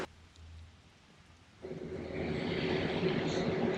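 Rain falling around Portland's Japanese garden, a soft hiss that swells abruptly partway through into a steady, louder downpour, fairly close and continuous.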